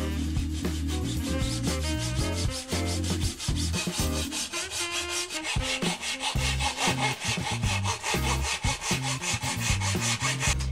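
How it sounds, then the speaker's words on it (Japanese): A Japanese hand saw cuts through a thin wooden side board for an acoustic guitar, fast rhythmic rasping strokes, loud and close, with no talk. "合わせてノコギリで切っていきました"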